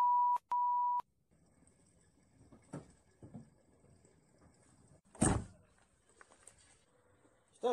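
Telephone tones sound after a call ends: two short steady beeps, then quiet with faint knocks and a sharp thump, and another tone at the very end.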